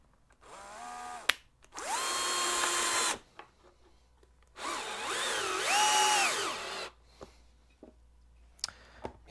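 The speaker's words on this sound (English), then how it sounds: "So, where's my drill? My screwdriver, here it is." A drill driver runs screws into a bracket in two whirring bursts, the motor revving up and winding down between short pauses, with small clicks and handling noises around them. It sounds close and there is no speech.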